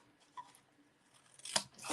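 Scissors angle-cut small bites from the tabs of a paper box template in a quiet craft setting, a faint soft snip early on and a sharper close cut near the end, with no talking.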